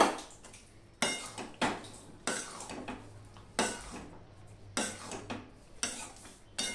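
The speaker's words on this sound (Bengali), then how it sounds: "এবারে আমি এটা নেড়ে দিলাম।" A spoon scrapes and clanks against a pot or bowl while jujube pickle is stirred, giving sharp metallic knocks at irregular intervals, close and clear, with no voices.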